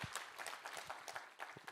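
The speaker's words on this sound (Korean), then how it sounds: "우리 하나님께 감사와 영광의 박수 올려드리겠습니다." A church congregation claps together in a brief burst of applause, a dense wash of many hands filling the room for under two seconds.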